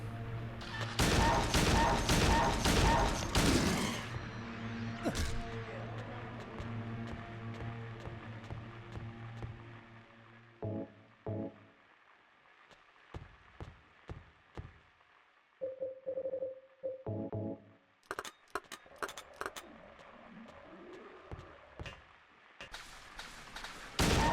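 Gunfire in the survival horror game Silent Hill 2 on hard difficulty, a loud dense burst of shots up front, then sparser sharp reports and clicks scattered through quieter stretches.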